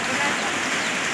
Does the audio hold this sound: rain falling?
yes